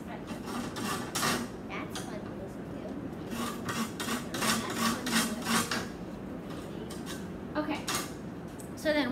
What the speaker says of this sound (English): I'm just gonna put them right here on the cutting board. And just strip them right off.